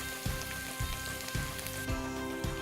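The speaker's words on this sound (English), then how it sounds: "Let's take this over to the zucchini noodles and stir them through." Zucchini noodles stirred through basil and garlic pesto in a hot pan give a steady sizzle, with a few soft scraping strokes at a regular pace, close and alone.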